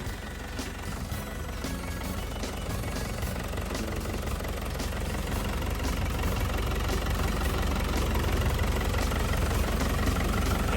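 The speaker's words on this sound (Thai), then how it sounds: "การทำงานของเครื่องยนต์ของเขาเนี่ย ก็ทำงานได้แน่นดีปกติหมดเลยนะครับ" Caterpillar 312C 12-ton excavator with its diesel engine idling, a steady low rumble with a faint rhythmic knock, running close and unbroken without any talk.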